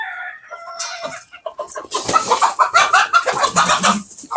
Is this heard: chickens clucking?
yes